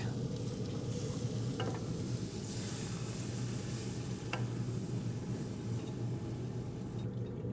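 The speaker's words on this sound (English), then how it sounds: "We'll get all that stock in there." A flour roux for shrimp étouffée sizzles in a pot while stock is added and a spoon stirs. A dense, steady hiss and bubbling continue throughout, with a couple of faint clinks and no voices.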